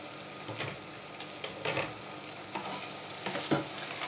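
Dried shallots fry in hot oil in a pot, a steady crackling sizzle broken by several scraping stirs at fairly regular intervals, close and moderately loud with no talking.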